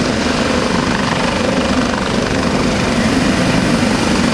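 A United States Coast Guard search and rescue helicopter hovers during a Rotorfest demonstration, its loud, continuous rotor and engine roar filling the air steadily and close by.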